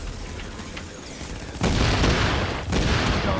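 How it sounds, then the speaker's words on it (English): Gunfire in The Division during a Dark Zone PvP fight on W 40th Street: a dense, loud burst of rapid shots that starts abruptly, briefly dips, then resumes. "Keep shooting him."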